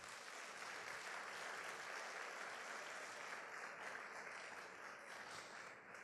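A church congregation claps together in a steady, dense wash of applause that holds at an even, moderate level for several seconds and then tapers slightly.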